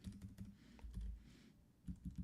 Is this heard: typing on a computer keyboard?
yes